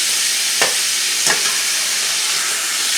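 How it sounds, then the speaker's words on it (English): A small grated onion browning in a pan for a layered Tex-Mex casserole, a loud continuous sizzle broken by two sharp scraping strokes of a spoon, with no voice. "just a small onion that I grated up, and we're going to brown this together"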